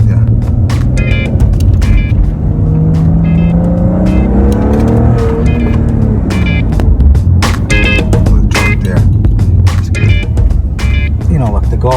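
A Maserati on newly fitted tires drives steadily with a continuous engine drone and road roar, the pitch rising and falling as it accelerates, with people talking over it.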